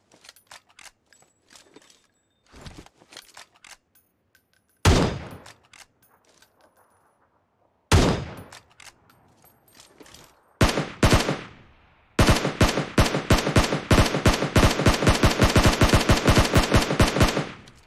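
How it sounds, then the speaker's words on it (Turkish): Gunfire in the PUBG Mobile battle game: scattered shots and short bursts, then a long, loud, rapid automatic volley with evenly spaced cracks filling the final seconds. "Kaç tane mermi harcadım ya?"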